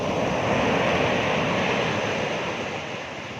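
Loud, continuous roar of ocean surf crashing nearby, a dense wash of water noise that eases slightly toward the end.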